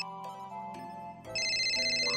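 A mobile phone ringtone plays as a melodic electronic tune, a few soft notes giving way to a louder, bright repeating ring that continues to the end.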